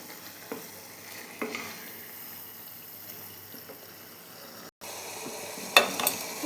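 Masala paste for veg biryani fries in oil with a steady low sizzle, broken by occasional soft stirring scrapes and a brief cut near the end before louder spoon clatter; no voices.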